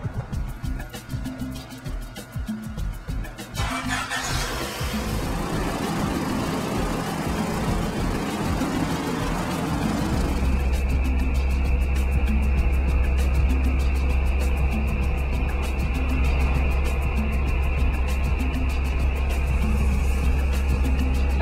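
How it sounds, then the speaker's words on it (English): A car engine idles roughly with low rumbling, then climbs into a loud, sustained higher-revving drone held steady through the power band during ECU tuning, a constant near engine roar. "David accelerates through the power band while simultaneously tuning the ECU"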